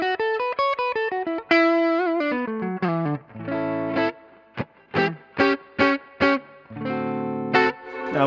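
An electric guitar played through an OriginFX RevivalDRIVE overdrive pedal with the blend set near the dry end and dry gain lowered: descending notes, then chords and short stabs, mildly driven and clean-edged, with pauses between hits.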